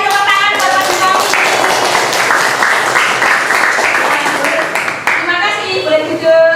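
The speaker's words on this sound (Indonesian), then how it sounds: "tepuk tangan buat Mas Himawi." A grade 5 Islamic studies class on zakat breaks into loud, dense clapping that fills the whole stretch and thins slightly toward the end, with voices mixed into the applause.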